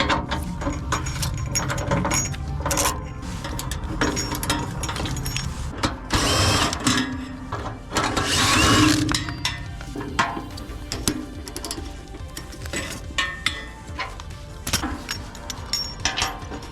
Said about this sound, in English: So there's gonna be 1, 2, 3, 4, 5, 6 bolts that you're gonna unscrew with a 12 mil.